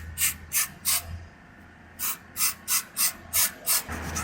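Rhythmic back-and-forth scrubbing of Suzuki GSXR brake parts doused in brake cleaner, a run of three quick strokes, a short pause, then six more, close and fairly loud with no talk.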